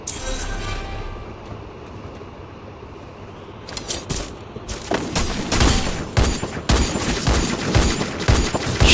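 Gunfire in a squad battle video game starts as a few scattered shots, then breaks into loud, dense bursts of rapid fire over the second half, with sharp overlapping cracks and booms.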